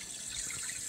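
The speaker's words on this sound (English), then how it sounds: "Turn on the water. Notice it's filling down here." A toilet tank refilling with water after being fixed for constant running: a steady, close hiss of rushing water with no talking.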